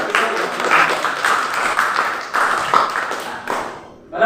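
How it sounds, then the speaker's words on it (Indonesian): A school classroom claps for a student group after its presentation, a lively patter of individual hands close by with audible separate claps, fading near the end. "Mari kita beri tepuk tangan untuk kelompok 1."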